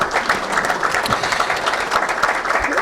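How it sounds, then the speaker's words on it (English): A church gathering applauds a men's group approaching its 17th year, many hands clapping in a steady, fairly loud patter with a few distinct nearby claps and thumps standing out. "So a round of applause for that and the Holy Spirit."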